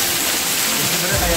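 Spray from the Curug Sawer waterfall pours down like rain, a dense, loud, hissing rush of water close to the listener, with a heavier low surge near the end.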